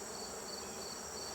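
Honey bees buzz around a hive, a dense, continuous drone of many insects close by, steady and unbroken with no talking.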